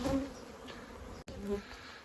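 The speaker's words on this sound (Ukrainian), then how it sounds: "Давайте витримаємо час, хай злетиться бджола." A steady, close hum of Carpathian honeybees buzzing around a hive fills the clip, with a brief dropout near the middle before the droning resumes.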